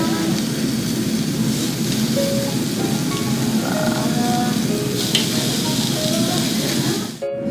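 Satsuma wagyu beef skirt steak (harami) sears on a grill with a steady, close crackling sizzle that carries through the clip; faint chatter and kitchen clatter sit underneath, and it cuts off abruptly at the end.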